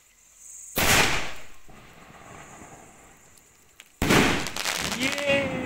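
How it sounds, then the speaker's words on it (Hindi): Two loud bursts of Diwali sky shot firecracker blasts, the first fading into a long hissing tail, the second followed by crackling and whistling rising tones. "पटाखा रेडी है और अब लगाएंगे इसमें आग।"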